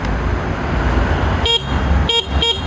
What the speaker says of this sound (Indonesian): Klaksonnya kayak gini suaranya.